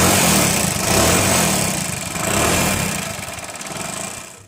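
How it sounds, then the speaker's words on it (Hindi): A Hero Splendor motorcycle with a rough, smoky engine in need of an overhaul runs close by, its uneven chugging idle rising and falling slightly in a continuous rumble, with no voices. "आपने इस बाइक की आवाज़ को तो सुन लिया होगा कि ये किस प्रकार से गड़गड़ा कर रही है"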